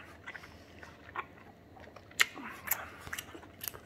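Close, wet lip smacking while chewing food, with soft clicks and smacks scattered irregularly at a quiet level.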